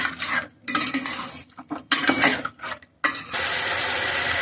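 A spoon scrapes and clanks against a pot while chicken curry with salt and turmeric is stirred, irregular metallic strokes broken by brief pauses, close and clear, with no voices.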